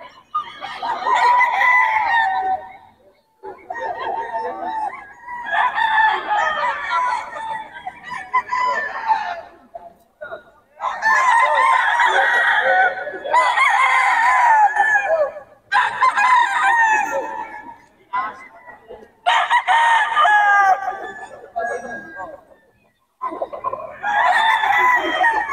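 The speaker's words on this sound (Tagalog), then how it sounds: "Quality mga manok nito ni Boss M." Several roosters crow loudly and repeatedly close by in Bocaue, their long calls overlapping in bursts with short gaps between.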